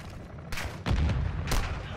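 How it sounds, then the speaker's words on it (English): Gunfire in the video game Call of Duty: Modern Warfare 2, on a campaign mission: three loud, close blasts with ringing tails in quick succession over a low rumble. "Are you shooting at me?"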